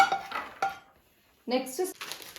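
Roasted seeds and nuts are tipped from a pan onto a plate with a few sharp metallic clatters and scrapes, close and fairly quiet, separated by a short pause.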